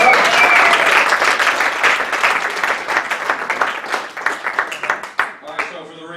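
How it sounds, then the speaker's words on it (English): A men's soccer banquet crowd gives Frank a round of applause, full clapping from many people that slowly tapers into scattered claps, with voices and murmurs mixed underneath. "let's give Frank a round of applause"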